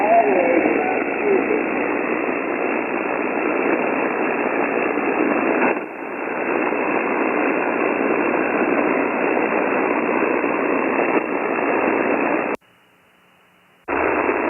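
A weak amateur radio signal sits buried in steady hiss and static, heard through an Icom HF transceiver, with a brief dip midway and a sudden near-silent gap near the end before the noise returns.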